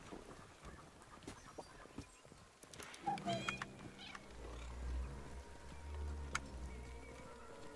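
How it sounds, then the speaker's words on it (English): Cats meowing in the video game Minecraft Legends, a few short mews among horse hoof clip-clops and game ambience, fairly faint, with a brief voice in the mix. "We have cats."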